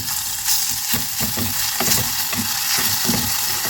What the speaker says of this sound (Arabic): الزيت سخن شويه